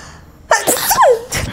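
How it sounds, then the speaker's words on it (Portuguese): A single sharp human sneeze rings out close and loud indoors: a quick intake, an explosive burst, and a brief trailing exhale. "Todo vídeo eu espirro."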